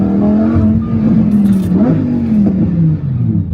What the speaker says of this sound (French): Ça fait trop de bruit, votre voiture.